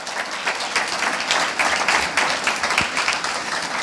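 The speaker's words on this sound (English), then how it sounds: "So let's give them a round of applause" An audience at a pitch event gives a round of applause, a fairly close, busy patter of many hands clapping that stays steady for several seconds.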